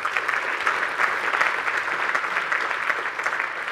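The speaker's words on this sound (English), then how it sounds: "Let's give them a round of applause." A conference audience at a tech keynote gives sustained applause for event sponsors, a dense, even roar of many hands clapping throughout, with no voices on top.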